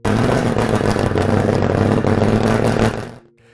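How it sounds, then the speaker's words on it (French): A loud, rough engine of a vintage Mercedes W125 racing car roars steadily for about three seconds, a dense mechanical rumble, then cuts off abruptly into near silence. "une voiture qui faisait déjà peur, rien qu'en entendant le son de son moteur"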